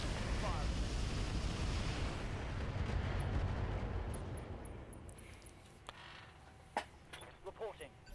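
Mech weapons fire in the Battletech video game, a heavy rumbling barrage that fades into scattered sharper impacts and clicks, with game voices under it.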